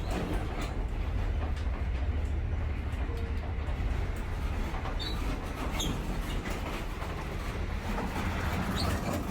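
The Overland passenger train to Melbourne rolls along, heard from inside a carriage as a steady loud rumble with faint rhythmic clacks and rattles of the cars, and no talk.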